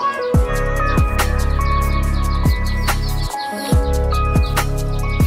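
Small birds chirp repeatedly at a nest beside a company building in hot Delhi, with sharp, loud, downward-sweeping calls in a quick irregular rhythm over a steady background hum.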